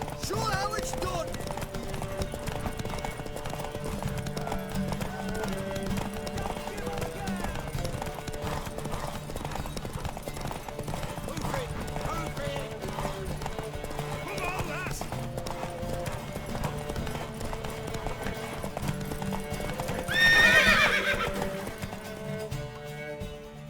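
Horse hooves clip-clop in a steady galloping rhythm over a music score in The Witcher 3, with a horse whinnying briefly near the end.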